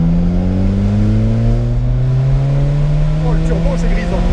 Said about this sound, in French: Oh, le turbo, c'est grisant.